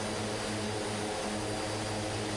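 An Aerosoft Twin Otter propeller plane in a flight simulator drones past at close range, a loud, steady engine and propeller hum that fills the whole stretch with no voices.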